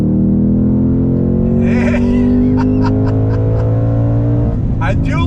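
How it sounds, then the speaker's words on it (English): A 2021 Ford Mustang Mach 1 V8 accelerates hard, loud engine note climbing steadily in pitch through the revs, then dropping with a gear change, while someone talks over it in short bursts. "I do love the way you can rev out the GT's engine all the way up to redline"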